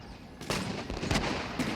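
A few sharp musket cracks from revolutionary line infantry in Napoleon: Total War's Battle of Arcole ring out over a low ambient rumble, irregularly spaced.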